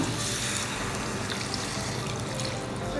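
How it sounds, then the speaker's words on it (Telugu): Continuous splashing rush of a cup of water being poured into a pan, steady and fairly loud, with no voices. "ఒక 1 కప్ వాటర్ వేసుకుని నేను ఒకసారి కుక్ చేసుకుంటాను"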